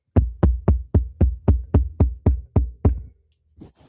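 About ten sharp, evenly spaced taps in quick succession, close and distinct, then a brief faint rustle.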